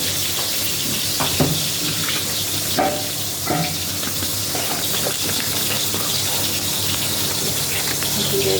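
Fish fry in oil in a pan for a Bengali fish curry, giving a steady, close hiss and bubbling sizzle throughout, with a few soft clinks and stirring touches scattered over it.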